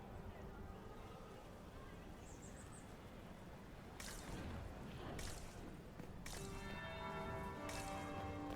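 A bell in Dragon Age: Inquisition rings out at a masquerade ball in four spaced, resonant tolls over a murmuring background, with voices present in the scene.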